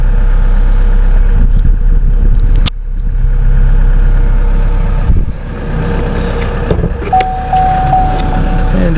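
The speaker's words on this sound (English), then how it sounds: "just one quick view of the engine running" A car engine idles steadily up close, a constant low rumble with a few small knocks and a faint tone partway through.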